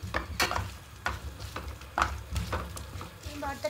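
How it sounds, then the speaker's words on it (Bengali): Mashed flat beans are worked together with oil by hand or spoon, giving close, squelching mixing strokes in an uneven rhythm over a low background. "তেল দিয়ে খুব ভালো করে মাখিয়ে নেব।"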